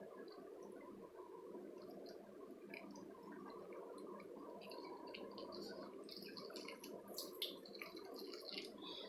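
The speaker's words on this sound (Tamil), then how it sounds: "இந்த சோயாவில் பார்த்திங்கன்னா கொஞ்சம் போல் தண்ணி விட்டுக்கலாம்" Water is poured over soya chunks, a soft, quiet trickle and gurgle with faint drips and splashes, steady and close.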